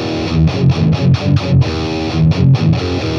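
Electric guitar through a BOSS Katana amp boosted by a Senta OD overdrive, a short burst of tight chugging palm-muted distorted chords with choppy rhythmic gaps.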